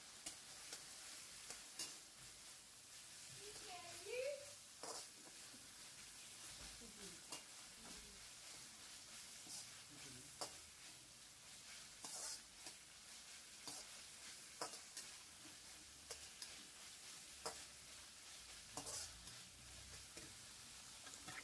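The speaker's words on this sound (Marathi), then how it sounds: "आता आपण त्याच्यात ऍड करणार आहोत शिमला मिरची आणि उभी चिरलेली कोबी" Capsicum and sliced cabbage stir-fry for Schezwan fried rice, a soft, fairly quiet sizzle running under repeated spatula scrapes and taps against the pan at an uneven rhythm.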